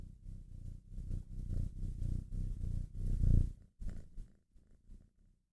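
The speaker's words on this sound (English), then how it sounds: "Do you guys hear him purring?" A male cat purrs close up, a low rumbling drone that swells and dips with each breath and then fades into softer, broken purrs.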